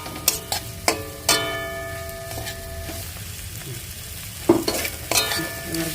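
Dried fish being stirred and sautéed in a pan, with a spatula scraping and clattering in several sharp bursts over a soft, steady sizzle close by.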